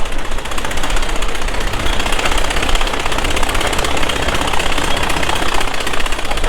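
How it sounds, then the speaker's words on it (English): A 1956 John Deere 720 diesel tractor runs close by at a show, its engine a loud, steady, rapid clatter with no break throughout. "Here's a 720 diesel, 1956, owned by Devin Malacott of Faribault."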